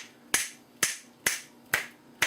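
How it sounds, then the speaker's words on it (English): Five sharp, dry finger snaps ring out alone at an even pace, about half a second apart, in a small untreated home studio room with no flutter echo trailing them. "You can actually snap your fingers."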